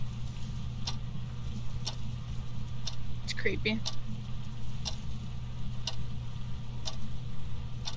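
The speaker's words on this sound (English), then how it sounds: "once the clock noise MP3 runs out, it's just a pause, and then it starts ticking again." A clock ticks steadily in the ghost-hunting video game Phasmophobia, about one sharp tick per second over a low droning hum, with a brief spoken remark in the middle.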